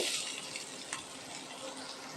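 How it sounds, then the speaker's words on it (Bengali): Chopped onion sizzling in hot oil left over from frying prawns, a steady soft hiss and crackle heard alone at low volume, close by. "এই তেলের ভিতরে দিয়ে দেব পেঁয়াজ কুচি"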